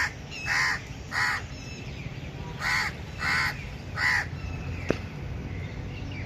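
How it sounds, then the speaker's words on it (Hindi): A crow caws in the forest, giving about six loud harsh caws, mostly in pairs, over a steady rushing outdoor background. "इधर कौवा बोल रहा है।"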